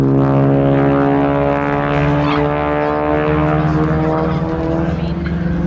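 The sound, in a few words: North American AT-6D Texan propeller aircraft flying at air show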